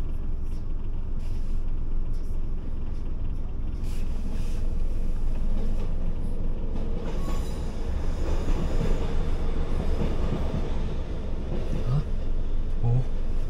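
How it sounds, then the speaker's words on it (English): A GWR train rumbles past in Cornwall, a low, continuous rolling roar that swells and holds with some clatter, heard from nearby alongside faint background voices. "That train was a GWR."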